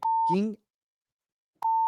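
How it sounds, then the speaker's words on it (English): A pure censor bleep cuts over a swear word, a steady electronic tone that sounds twice around a short burst of voiced speech and a brief silence. "So there's a few different ways to bleep that"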